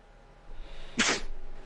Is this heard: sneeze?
yes